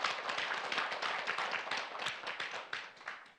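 A small audience at a Jeungsando gathering claps in a quick, fairly distinct rhythm, faint and even, with individual hand claps audible throughout.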